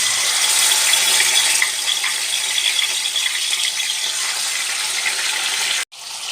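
Boneless chicken pieces soaked in vinegar sizzle in hot oil, a loud, steady crackling hiss that runs nearly unbroken before a brief cutoff near the end.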